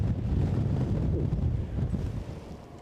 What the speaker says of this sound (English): very gusty here. Very gusty indeed.